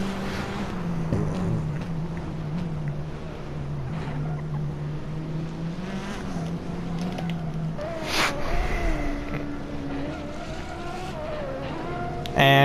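Race cars on a straightaway in a racing series, a close engine drone with shifting pitch and gear changes, a brief louder burst partway through, other engines faintly mixed in.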